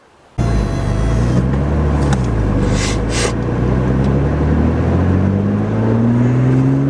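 A Porsche 987 Cayman S's engine starts loudly and drones steadily, its pitch rising gradually as it accelerates, with faint road and wind noise.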